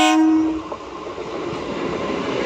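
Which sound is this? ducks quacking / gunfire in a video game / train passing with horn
train passing with horn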